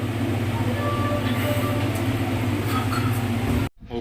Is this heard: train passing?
yes